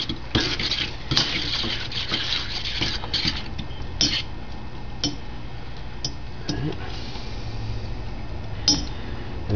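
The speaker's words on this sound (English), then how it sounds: "mix it in real thorough" Egg and maitake mushroom quiche mixture is stirred and scraped in a skillet, with repeated clacking utensil strokes and scraping at moderate loudness, close by.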